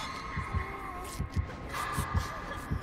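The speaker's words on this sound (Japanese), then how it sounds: "心音が聞こえてきたわ。" Terror-radius heartbeat from the Switch version of Dead by Daylight, low paired thumps pulsing at an even pace beneath a droning game hum, with no talk over it.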